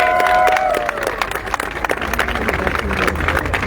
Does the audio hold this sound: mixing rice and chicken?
no